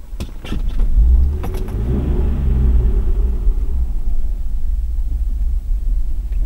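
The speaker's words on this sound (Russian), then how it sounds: "Вот на бензине он заводится." A Mercedes 126 running on petrol starts up: a brief cranking burst gives way to a deep, steady idling rumble that continues close and fairly loud, with no talking.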